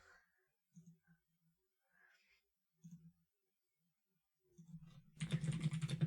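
Scattered soft keystrokes on a computer keyboard, a few light clicks in short bursts with pauses, then a louder flurry of rapid typing near the end.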